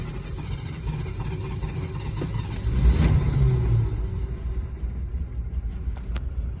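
A 1984 Ford LTD wagon engine idles steadily at close range, with a low rumble that swells briefly as if revved before settling back to an even idle.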